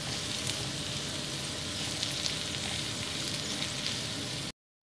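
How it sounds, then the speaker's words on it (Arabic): Sliced sausage frying in a pan with onion and chili peppers for a quiche, a steady, busy sizzle and crackle throughout with no talking. "عندي السوسيس اللي قطعتو على هذا الشكل، فغادي نضيفو عليه ونخلطهم مزيان ونخليه يطيب"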